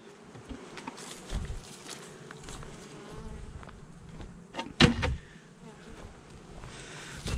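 Honeybees buzzing in spring during an early-season colony inspection, a faint steady hum with passing buzzes and occasional handling knocks and thumps nearby, no talk.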